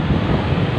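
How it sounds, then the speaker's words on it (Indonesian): Steady sea breeze rushes against the microphone over a broad wash of surf on Padang beach, a continuous roar with no distinct wave breaks in the short stretch. "Duduk di tepi pantai, menikmati angin sepoi-sepoi dari ombak yang datang"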